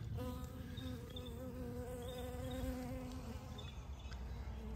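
Honeybees at backyard hives, some gathering near water, hum in a steady, close buzz with wavering pitch as individuals fly past, the drone filling the short outdoor scene without any talk.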